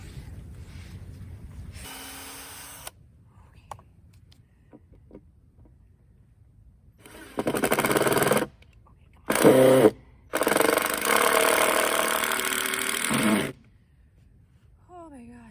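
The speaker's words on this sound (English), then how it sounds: "some pieces of wood are just harder to drill into" A power drill whirs in several bursts of varying length, loud and close, grinding as it drives screws into wood through pilot holes, with pauses of quiet between runs.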